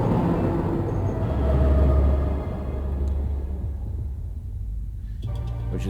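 A train in the video game Leisure Suit Larry: Wet Dreams Dry Twice rumbles past with a deep, steady roar and rattling carriages, loud and close, easing slightly near the end.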